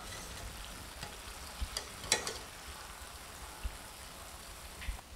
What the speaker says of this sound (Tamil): லோ ஃப்ளேம்லேயே சுட்டு எடுக்கணுங்க.